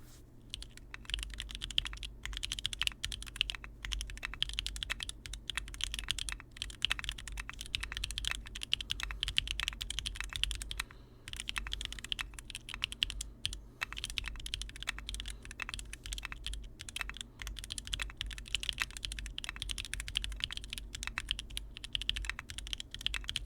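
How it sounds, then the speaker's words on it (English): Steady typing on an Aeroboard70 mechanical keyboard fitted with oolong switches, a dense, continuous clatter of close keystrokes with a deeper thock underneath, heard alone with no voices. "I'm thinking the oolongs would sound amazing in here."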